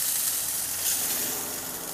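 Miso burgers sizzling in a hot pan, a steady bright hiss and crackle running evenly throughout, fairly soft with no voices.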